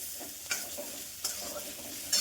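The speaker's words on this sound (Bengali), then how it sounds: "একদম পুরো লাল লাল করে একটু ভাজা হবে।" Food already mixed with onion fries in a pan until deep red, giving a steady close sizzle broken by a few sharp scraping stirs.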